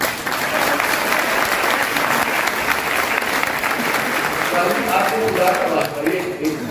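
Sustained audience applause fills a talk-show interview and question-and-answer session, a dense, even wash of clapping from a crowd, loud and continuous throughout.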